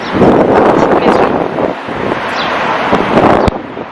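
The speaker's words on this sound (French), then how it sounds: "il y a du vent" Strong seaside wind buffets the microphone in a continuous loud roar with gusty swells and a sudden crackle near the end.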